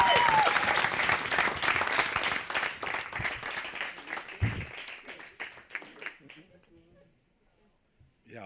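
Audience applause at a Red Nose Day 2010 comedy show, loud clapping that slowly fades away over several seconds, with a voice talking over it.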